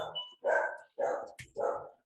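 A pet dog lets out four loud, close barks in quick succession, each a full-throated bow-wow with brief pauses between them.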